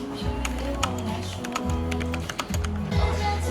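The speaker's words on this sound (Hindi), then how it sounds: "ये कीबोर्ड देख, अब इसमें जैसे हम लिख रहे हैं" Keys tapped on a computer keyboard in quick, uneven clusters of close clicks, heard up close with a faint murmur of background sound.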